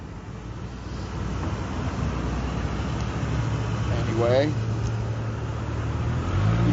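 A car passes close by on a road corner, its engine and tyre noise steady over a continuous traffic rumble. Someone talks over it.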